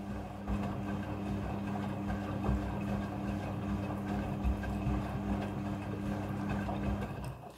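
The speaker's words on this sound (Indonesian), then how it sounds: "Mesin cuci front loading sudah full automatic dalam mencuci." A front-loading, fully automatic washing machine runs its wash cycle with bedsheets and pillowcases, giving a steady low mechanical hum and churning drone throughout, with a faint voice underneath.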